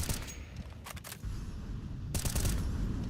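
Gunfire in Counter-Strike, a few faint sharp cracks and short bursts over a low hum of game ambience, distant and without talk.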